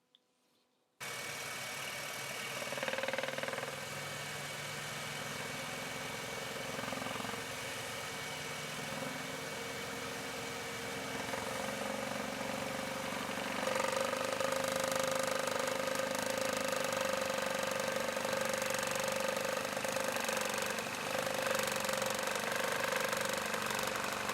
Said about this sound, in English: feed the scroll saw blade through, tighten it up, and cut away the inside